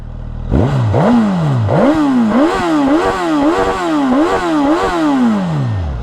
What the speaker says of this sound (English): But let's give it a couple revs.